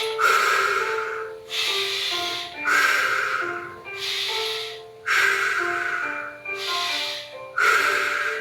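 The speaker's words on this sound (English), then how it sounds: "the belly breathing" Deep belly breathing during a standing balance exercise: about seven close, rhythmic breaths, each a strong airy rush of roughly a second followed by a short pause, with a faint tonal hum beneath.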